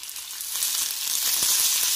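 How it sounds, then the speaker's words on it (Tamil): Thuthuvalai leaves sautéing in sesame oil with garlic, pepper and cumin, a steady close hissing sizzle that grows slightly louder, with faint stirring. "தூதுவளை நல்லா வணக்கி விடுங்க."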